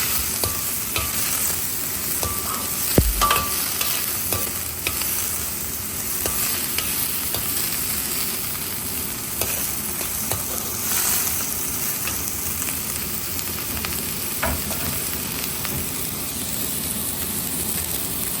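Onions fry until brown in a pan, a continuous loud sizzle with repeated spatula scrapes and clicks as they are stirred, and one sharp knock near the start.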